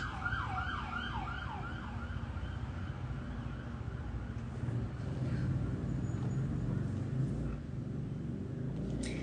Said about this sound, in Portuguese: Espera a ambulância passar.